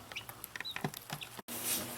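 Soft, scattered clucks from chickens in a pen on an off-grid homestead, light and irregular over quiet background, followed by a brief break and a steady rustling noise.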